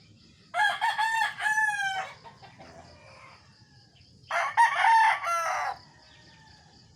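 Sweater-breed gamefowl roosters crowing outdoors, two loud full crows a few seconds apart with faint clucking and rustling between them.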